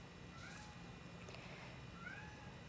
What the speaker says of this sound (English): There's a cat that wants to come in, but I'm not gonna allow it.